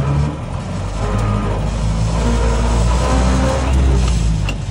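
Land Rover Series IIA engine pulling in four-wheel-drive low range, a loud, steady low drone with gear whine and rumble swelling slightly as it goes.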